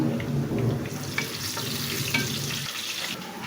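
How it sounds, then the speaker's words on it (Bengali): Chopped onions with bay leaves, cinnamon, cardamom and cloves frying in a pan for chicken korma, giving a steady close sizzle with light stirring and scraping throughout, no talk. "এবারে তিনটা পেঁয়াজ কুচি দিয়ে দিলাম দিয়ে দিচ্ছি তেজপাতা দারচিনি এলাচ আর লং"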